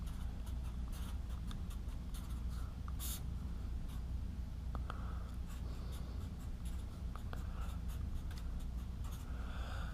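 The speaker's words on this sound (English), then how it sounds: "I'm just going to write it out quickly." Pen or pencil scratching steadily across paper while a math problem is written out quickly, a continuous close scribbling with short strokes and pauses, no talking.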